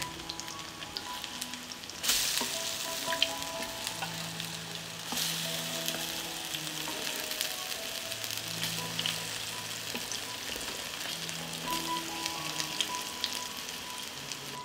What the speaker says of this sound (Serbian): I tikvice pržimo po 3 minuta sa obe strane.